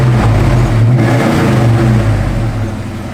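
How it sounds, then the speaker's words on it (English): A 1986 Ford Mustang LX engine is revved up from idle, its deep, rumbling note swelling and holding close by before easing back down toward the end. "give it a little rev, Gary."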